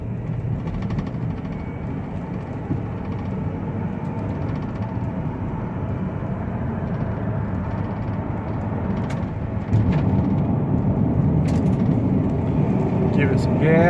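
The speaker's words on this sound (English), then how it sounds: "we're going to get this up to highway speeds, show you that the transmission shifts as it should" A 2005 Dodge Caravan SE wheelchair mobility van, 41k miles, accelerates to highway speed with a steady droning engine and road roar that swells louder near the end as more gas is given, with a voice talking over it.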